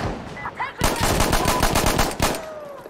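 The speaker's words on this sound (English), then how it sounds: "I'm getting shot at." Rapid automatic gunfire from Insurgency Sandstorm rattles in a sustained burst of sharp, evenly spaced shots after a brief quiet start, loud and close, with faint voices underneath.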